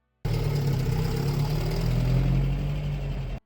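A Toyota 22RE truck engine, freshly fitted with a new mass airflow meter, runs steadily close by with a low, even hum and no revving peaks, heard alone without voices.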